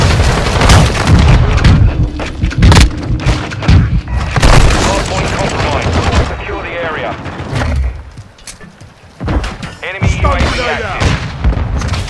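A Semtex grenade blows up in Call of Duty: Modern Warfare II, one of many loud booms and gunfire bursts that fill the whole stretch, with combat voices and radio callouts underneath.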